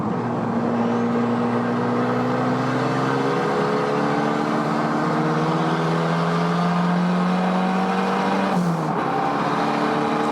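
A tube-frame kit car engine revs hard and steadily at high revs on a racetrack, its pitch climbing through gears, loud and close, then briefly drops off near the end.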